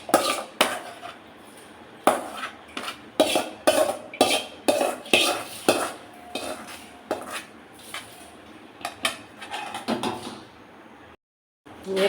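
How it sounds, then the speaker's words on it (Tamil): Cooled fried onions scraped from a pan into a mixing bowl for a ridge gourd peel chutney, a run of loud clattering utensil knocks and metal scrapes in uneven bursts, close and dry, with a brief silent gap near the end. "அதை ஒரு மிக்சிங் பவுலுக்கு மாற்றிக்கலாம்."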